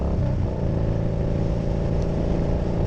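A motorcycle exhaust drones loud and steady, a close, rumbling engine note with no pause.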